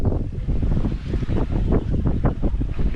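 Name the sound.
wind at sea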